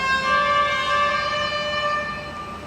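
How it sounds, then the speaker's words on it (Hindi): Vehicle horns blare in a traffic jam, holding a steady, loud, sustained tone with no talk over it. "ये हॉर्न बार बार बज रहा है, यहाँ पे जाम लग गया है।"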